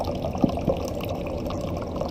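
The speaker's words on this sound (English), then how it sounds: "we'll take and fill up a little cup" Water pouring into a small cup for flushing a camper toilet in a Jayco Octane toy hauler on a winter dry-camping trip: a soft, steady trickle with a couple of light clinks, close by.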